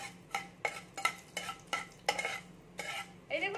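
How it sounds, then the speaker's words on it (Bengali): Black mustard seeds fry in hot oil, giving off a series of sharp crackles and pops in irregular bursts, with a pan stirred close by against a quiet background. "কালো সরষে যেগুলো পাওয়া যায় সেগুলো আমি দিয়ে দিচ্ছি।"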